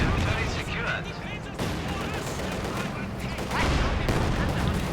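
Company of Heroes 2 tank battle with a Panzerfaust hitting a T-34, full of dense crackling gunfire and artillery booms layered over constant battle noise, while a commentator's voice talks over it.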